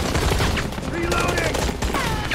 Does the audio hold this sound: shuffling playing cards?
no